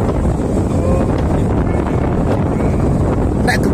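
Steady, loud wind buffeting the microphone outdoors while a pegon kite flies in gusty pre-storm weather, continuous roar throughout with no clear talk.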